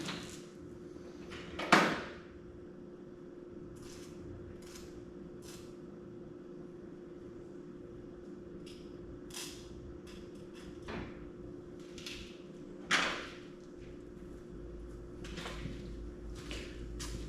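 Two sharp metallic taps ring out a few seconds apart as a burr is knocked off a piston ring during a 6.0 LS engine rebuild, with faint clinks and quiet shop noise between them.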